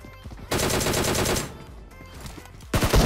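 Automatic gunfire in the PUBG Mobile battle royale game, loud rapid bursts of shots in two volleys separated by a short pause, with no talking.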